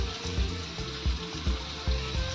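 Mustard seeds crackle and sizzle in hot oil in a pan while tomato bhaji is being made, a steady frying hiss with soft, repeated low pops and no talking.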